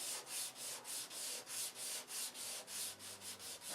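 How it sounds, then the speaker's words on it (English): Wood is wet sanded with 600-grit paper, making a steady back-and-forth rubbing with even, regular strokes, close and soft, with no talking. "we'll wet sand it until it's transparent"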